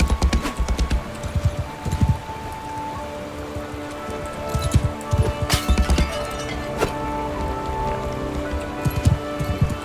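Galloping horse hooves from Mount and Blade II Bannerlord, a steady run of close, loud clip-clop beats mixed with rain-like patter and occasional sharper impacts, with no talking.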